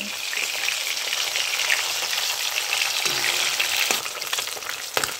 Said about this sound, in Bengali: মাছগুলো খুব কড়া করে ভাজবো না, হালকা লালচে করে ভেজে নেব।